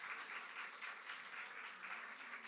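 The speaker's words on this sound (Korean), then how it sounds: "뜨겁게 박수로 한번 격려하겠습니다" A church congregation at a Sunday worship service applauds in a soft, distant wash of clapping that swells and eases in gentle pulses, with no voices over it.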